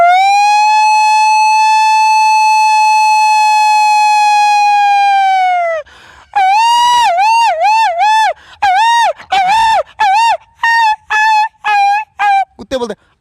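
A voice imitates a jackal howl: one long sustained wail, then a string of short, wavering yelps rising and falling, loud and close.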